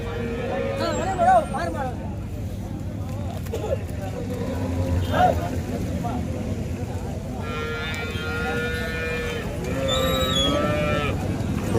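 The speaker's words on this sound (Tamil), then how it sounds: "நாட்டு பசு மாடுங்க எல்லாமே பாய்ச்சல் மாடுங்க எல்லாமே கொண்டு போயிட்டுருக்காங்க பாருங்கள்" Native cows moo several times at a busy cattle market in Vaniyambadi, their calls rising over steady crowd chatter and background activity.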